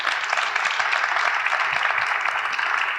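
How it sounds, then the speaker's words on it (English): A conference audience at a disaster-response summit gives a panel a steady round of applause, a dense, even clatter of many hands throughout. "Let's give them a round of applause."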